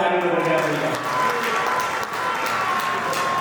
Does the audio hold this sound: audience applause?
yes